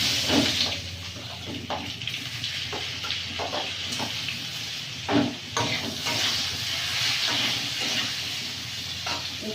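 Papaya and potato hit hot oil with fried mustard and bay leaf, giving a steady close sizzle and hiss broken by scraping stirs and a few louder clatters.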